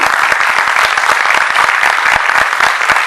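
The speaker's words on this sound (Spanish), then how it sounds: "les despedimos con un muy fuerte pero fuerte aplauso" An audience at a peace-culture diploma session applauds loudly and continuously, with dense, close clapping and sharp individual claps standing out throughout.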